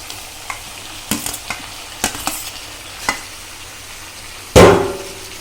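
Fried potatoes stirred with papaya in a frying pan: scattered scraping taps of a spatula over a quiet sizzle, ending in one loud, sharp burst of frying.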